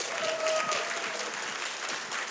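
Sustained applause from a large audience at a speedrunning event fills the space, dense and steady clapping with a brief whistle near the start.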